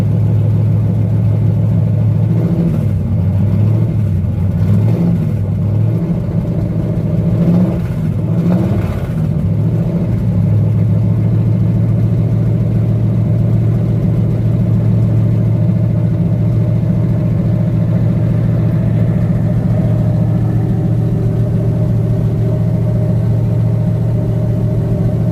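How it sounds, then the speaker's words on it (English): A truck or tractor engine restarted after a cold start, rumbling loud and close with several throttle revs in the first ten seconds before settling into a steady low idle. "a little bit more throttle and fire it back up. Hold it there for a minute, kind of vary the RPMs"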